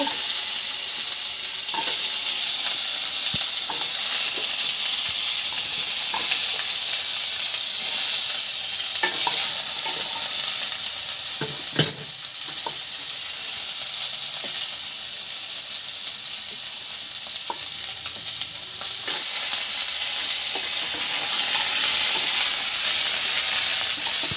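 Grated carrot and papaya fry in a pan for a Bengali dudh shukto, giving a loud, steady sizzle that runs throughout, with faint stirring scrapes and no talk.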